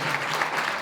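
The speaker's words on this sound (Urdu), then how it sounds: "میں چاہتا ہوں خدا کے خادم کے لیے بھی زوردار تالی بجائے." A church congregation in Faisalabad claps loudly for a pastor, dense sustained applause filling the whole moment at close range.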